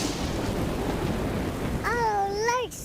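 A thunderstorm with heavy rain makes a dense, continuous roar that swells and rumbles, and a voice speaks briefly over it near the end.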